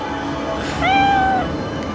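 A cat, taken for a stray, gives one short, clear rising-and-falling meow, close and alone over a faint background hum.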